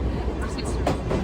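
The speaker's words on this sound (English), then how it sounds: "We're enjoying our scenic romantic train ride." Sagano scenic train rolling through the Kyoto mountains, heard from an open-air car as a steady low rumble with faint rattles, with voices talking over it.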